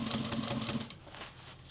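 A Juki 1541S sewing machine topstitching fabric runs steadily at close range with a fast mechanical hum and needle chatter, easing off slightly partway through. No voices are heard.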